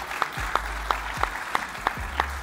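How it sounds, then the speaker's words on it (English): An audience at a corporate event applauds as partners come up on stage, a steady wash of clapping with a regular beat of sharper claps and low thumps running through it. "I'd like for you to give them a big round of applause."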